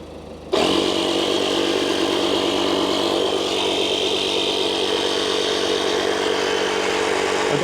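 A portable air compressor pumps up a tyre that may be off its bead, starting abruptly and then running as a loud, steady buzzing drone that continues to the end.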